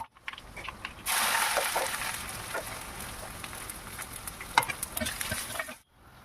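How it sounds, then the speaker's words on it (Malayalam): Ginger and green chillies hit hot oil already holding curry leaves, fenugreek and dried red chillies for inji puli, the sizzle bursting in suddenly and hissing steadily under stirring clicks before cutting off abruptly. "ഇഞ്ചി, പച്ചമുളക് ഇവയിട്ട് ഇളക്കുക"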